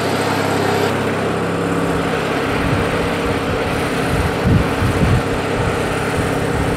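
The Briggs & Stratton opposed-twin engine of a Craftsman LT1000 lawn tractor runs steadily and loudly, a constant rumbling drone with slight fluctuations, heard close by.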